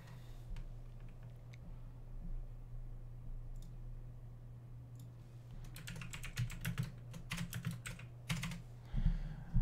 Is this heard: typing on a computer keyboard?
yes